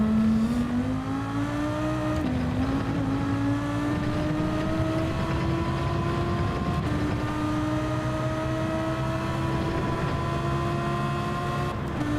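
Race car engine in Gran Turismo 7 holds a loud, steady, buzzing drone throughout, its pitch stepping and climbing as it downshifts into second gear under braking.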